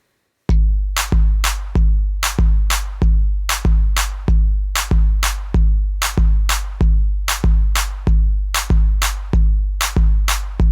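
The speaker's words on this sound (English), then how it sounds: "The last thing that we're going to do to get the reggaeton beat is we're going to remove the clap" A reggaeton beat of deep kick drum hits and sharp claps repeats in a steady, loud, unbroken loop, with the claps dropped wherever they would coincide with a kick.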